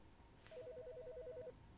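Telephone in Autopsy Simulator trilling with a quick warbling electronic ring for about a second, faint and alone against a quiet background.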